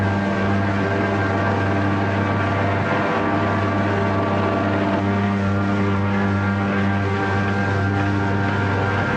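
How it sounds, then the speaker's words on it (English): A 1953 serial sound effect of the Cosmojet spacecraft arriving, a loud, steady, engine-like drone with a constant hum that holds throughout, heard alone. "The Cosmojet has arrived."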